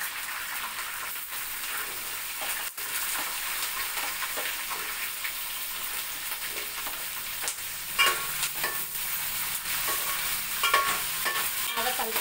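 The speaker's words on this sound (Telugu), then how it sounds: "ఇప్పుడు ఆనియన్స్ వేస్తున్నాను" Onions and green chillies frying in oil for Andhra-style biryani, a continuous crackling sizzle like light rain, with occasional stirring scrapes growing busier toward the end; no talking.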